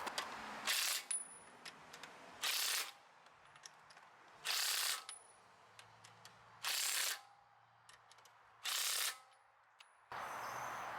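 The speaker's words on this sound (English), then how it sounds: "Put the wheel back on and torque the wheel lug nuts at 129 foot-pounds." Wheel lug nuts on a 2020 Tesla Model 3 are tightened with a torque wrench, giving six separate bursts of fast ratcheting clicks at a steady pace, with quiet pauses and faint clinks between them.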